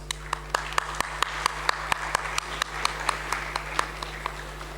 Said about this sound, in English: Let us welcome Sir with a warm round of applause.